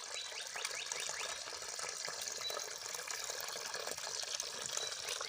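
Water flows out steadily on its own in an even, unbroken gushing stream that stays close and fairly loud throughout, with no talking.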